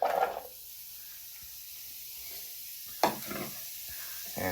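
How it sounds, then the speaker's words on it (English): Onions go into olive oil heating over medium heat, giving a brief sizzling burst, a quieter simmer, then another sizzle with stirring, all fairly faint and without speech. "So I got the olive oil heating over medium heat, so I'll add in the onions."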